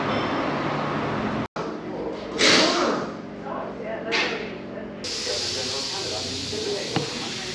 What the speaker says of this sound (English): It's absolutely belting down out there at the moment, raining.